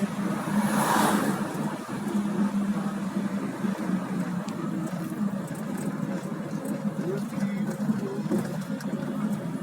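Car driving at night through the damaged streets of Irpin, a steady close road rumble and tyre noise running the whole time with faint rattles and bumps, a brief voice near the start.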